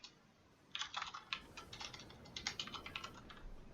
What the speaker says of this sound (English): Typing this down as it happens,